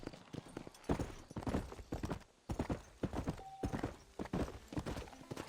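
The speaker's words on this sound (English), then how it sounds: "To spur your horse and move faster, tap A." Horse hooves gallop in the Red Dead Redemption video game, with a steady rapid clip-clop rhythm over a continuous background rumble.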